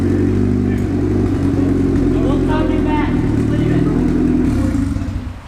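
A turbocharged Honda Integra strapped to a dyno, its engine running with a steady loud rumble and clatter, rising slightly in pitch midway before easing off at the end.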